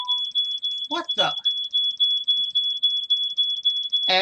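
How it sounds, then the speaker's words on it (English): A kitchen smoke alarm set off by cooking sounds as a loud, steady, rapidly pulsing high beep throughout, with a person speaking briefly over it and again at the end. "Every time she cooks, that alarm goes off."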